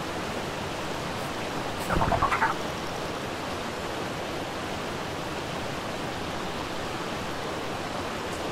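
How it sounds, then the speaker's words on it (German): A waterfall in the survival game Ark, on a hardcore-mode island, gives a steady, even hiss of rushing water, moderately quiet and unbroken, with a short louder splash-like burst near the beginning. "Da hinten ist noch ein Wasserfall."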